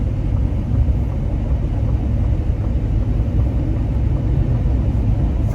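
A 2023 Ford F-150 Lariat with a 10-speed transmission cruising on the road, giving a steady, low cabin rumble of engine and tyre noise with no talking.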